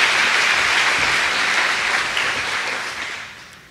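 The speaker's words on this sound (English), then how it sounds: "So let's give them a big round of applause today." Dense, steady applause from an opening-day audience fills the space, loud and continuous before tapering slightly at the end.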